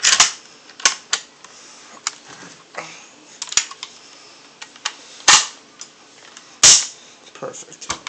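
A Mosin Nagant M91/30 rifle gives sharp, separate mechanical clicks and snaps from its trigger and action, several sounding in irregular succession with near, crisp attacks and quiet gaps between them.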